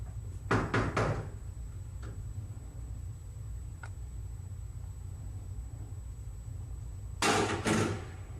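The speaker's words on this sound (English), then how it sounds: "You just heard the door come unlocked." A short metallic clunk and rattle of a jail door lock being unlocked, a faint click in between, then another louder clatter, all over a low steady hum.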